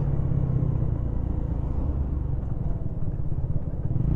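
A motorcycle rides along a road at night, its engine a steady low rumble and drone with wind noise, continuous and close throughout.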